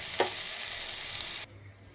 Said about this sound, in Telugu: బొరుగులు వేయాలి బాగా కలపాలి